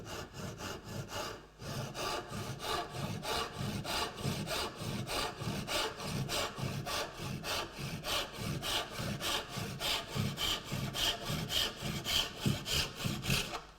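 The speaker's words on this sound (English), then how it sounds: "just use a tenon saw to cut down this line here" A tenon saw cuts down a marked line in a piece of wood, giving close, steady back-and-forth strokes in an even rhythm after a brief pause near the start, with no talking.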